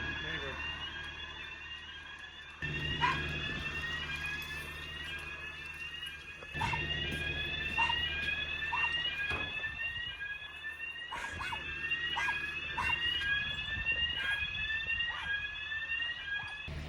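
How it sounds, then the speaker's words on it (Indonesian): A house fire alarm sounds in repeated rising electronic sweeps that pulse steadily through the whole stretch, moderately loud indoors, with occasional sharp knocks and people talking at times underneath. "Makanya alarmnya berbunyi."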